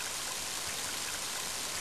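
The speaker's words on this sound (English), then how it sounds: "Mighty heavy rain, isn't it?" Heavy rain in the video game Mother 3, a steady dense hiss of downpour filling the whole short stretch evenly, with no talk over it.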